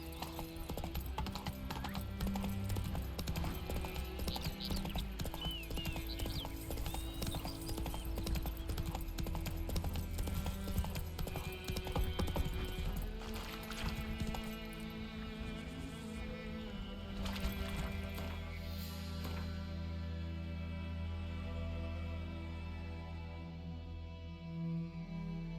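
Geralt's horse Roach in The Witcher 3 gallops with rapid, rhythmic hoofbeats over a steady game backdrop, a whinny breaking through early on, the hooves slowing toward the end.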